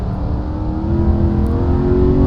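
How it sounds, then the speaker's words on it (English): DTM race cars in a sim racing game short shift, a loud, steady engine drone that rises and shifts as the cars pass, with no talk over it. "You can hear both of them short shifting as Van Doren actually runs off the road."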